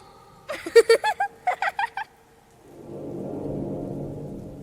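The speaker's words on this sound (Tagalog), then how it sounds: "kasabay ng malakas at bigla ang pagbuhos ng ulan" A sudden steady wash of rain pouring down, rising after a few sharp rhythmic calls and holding as a continuous rushing noise.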